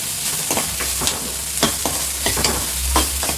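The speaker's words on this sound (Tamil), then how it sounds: "நல்லா வதங்கட்டும் வெண்டைக்காய்." Okra sautéing in a pan, a steady frying sizzle broken by repeated scraping strokes of a spoon stirring at an uneven rhythm, close and fairly loud, with no talking.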